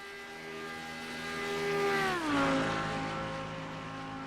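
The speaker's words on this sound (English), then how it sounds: "What's not to love about a V10?" Audi R8 V10 GT3 engine in the iRacing sim, a loud sustained V10 howl that climbs, then drops sharply in pitch around the midpoint as it passes or shifts, continuing at a steady drone afterward.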